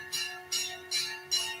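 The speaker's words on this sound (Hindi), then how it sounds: "आपके मंदिरों में घंटी बजाई जा रही है" Temple bells rung during early-morning worship, four bright metallic strikes at a steady rhythm, each ringing briefly before the next, close and fairly loud with no voices.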